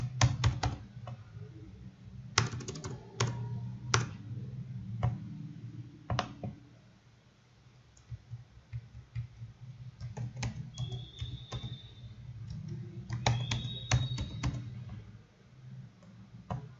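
Credentials are typed on a computer keyboard, giving bursts of close, sharp key clicks with brief pauses between runs and a low background hum.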